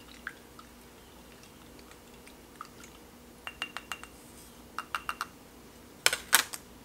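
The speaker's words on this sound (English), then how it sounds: "so I will stir this really well." DIY barrier flux being stirred in a container: sparse clicking and light tapping ticks, mostly isolated, with a short tight cluster near the end, close and fairly quiet over a low steady hum.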